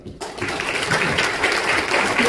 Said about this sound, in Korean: 말씀님께 큰 박수 부탁드리겠습니다.